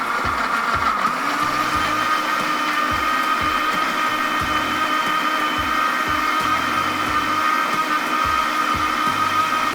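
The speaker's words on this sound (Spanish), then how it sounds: "Y procedemos a licuar." A kitchen blender whirs continuously, close and loud, as it purées sauce ingredients with a couple of spoonfuls of sugar, a steady high motor whine over a churning rumble.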